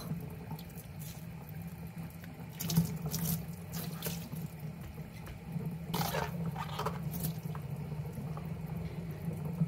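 Zucchini and cucumbers being rinsed under a running kitchen tap, a steady close splash of water into a sink with louder gushes around three and six seconds as the vegetables pass under the stream.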